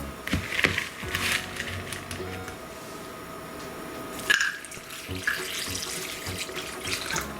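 Mountain spring water runs steadily into a basin to soak tamarind, a continuous splashing pour with a brief clatter partway through.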